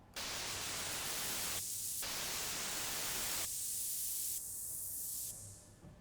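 Custom-built swell and swoosh sound effect: broad, loud hissing noise bursts that start abruptly, drop out and return in stages, closing with a brighter airy sweep that fades away, with no voices.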